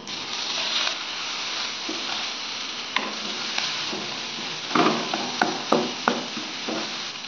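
Nuts, onion, garlic, chopped tomato and chilli fry in a pan with a steady close sizzle, broken by several sharp clacks and scrapes of stirring toward the end.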